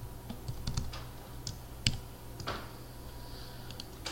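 Keystrokes on a computer keyboard while an email address is typed into a setup form, a few quiet scattered clicks spread irregularly over a low steady background hum.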